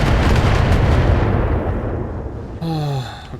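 Missiles slam into a mech in the Battletech video game, a loud booming barrage of explosions that rumbles and fades, followed by a short descending electronic tone.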